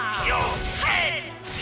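A Rolling Smash attack in Xenoblade Chronicles 2 hits as a loud, heavy crashing impact with swishing effects, mixed under game voices calling out moves.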